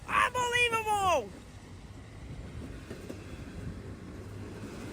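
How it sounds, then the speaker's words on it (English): CSX westbound mixed freight train hauling empty military container cars rolls past with a steady low rumble and faint rail clatter after a brief shouted voice at the start. "There's an empty military container train. They're taking them over by the QV17 westbound mixed freight train."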